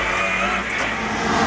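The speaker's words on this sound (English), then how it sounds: "you've got a car that sticks to tarmac like glue and tears up this track" A Subaru World Rally Team rally car drives hard on a tarmac track, its engine a loud, sustained roar close by, with no voices.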